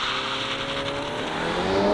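Volkswagen Golf GTI (2022) engine held at steady high revs under launch control with the brake on, a loud continuous drone heard close and alone.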